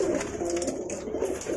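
A Javanese pigeon coos in a soft, throaty, repeated rolling call, close and clear, with nothing else heard over it.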